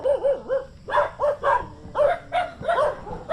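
A dog barks repeatedly outdoors, a quick irregular series of about nine sharp yelping barks, close and loud with nothing else over them.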